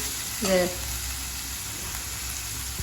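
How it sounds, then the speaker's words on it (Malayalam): Garlic frying in a pan, a steady soft sizzle throughout with a brief stir or clatter near the start and another at the end, close and moderately loud. "അപ്പോൾ വെല്ലുള്ളി ഇട്ട്, വെല്ലുള്ളി നല്ലോണം വാടണം"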